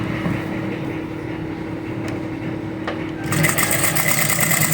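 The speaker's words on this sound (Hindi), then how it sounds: "बिल्कुल फ्यूजिंग के साथ आपने सिलाई लगानी है।" A sewing machine runs steadily, stitching a garment seam right along the edge of the fusing; the motor whirs continuously and grows slightly louder and busier toward the end.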